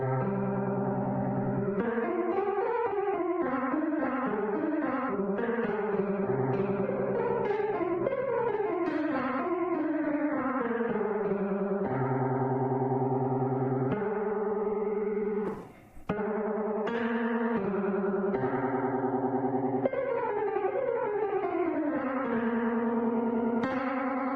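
A continuous melodic synth line with a shimmering, doubled effect from the AB Chorus X plugin on iOS and a little echo, playing steadily with one brief dip near the middle.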